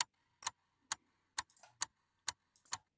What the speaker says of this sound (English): even a clock,